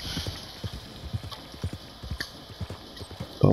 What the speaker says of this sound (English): We need to slow down because our horse needs to recover some stamina.